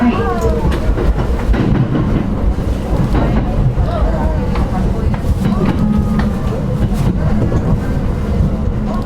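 Local train on the Hachiko line in Japan, a steady loud rumble of wheels on rails with faint rhythmic clatter and squeals, heard from inside the carriage.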